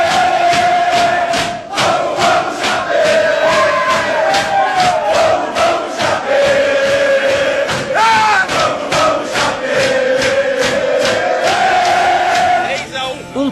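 Chapecoense football players celebrate in the locker room, a loud close crowd of men roaring, chanting and shouting in rhythmic bursts with clapping, the noisy chant pulsing steadily throughout.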